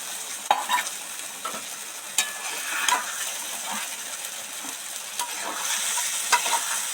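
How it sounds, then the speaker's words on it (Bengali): Spices stirred and fried in a kadai for a paneer dish, giving a steady soft sizzle broken by repeated scrapes and light taps of a spoon against the pan, close and without speech. "ভালো করে নেড়ে চেড়ে মিশিয়ে দেবো যতক্ষণ না একটা কাঁচা গন্ধ চলে যায় ততক্ষণ ধরে ধরে আস্তে আস্তে নাড়তে থাকবো"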